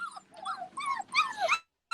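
Small dogs whimpering and yipping close by, a quick run of high, wavering cries and sharp yelps over about two seconds, ending in a brief pause and one more yip.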